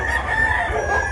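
A rooster crows in one loud, close, drawn-out call with steady low background noise and no talking.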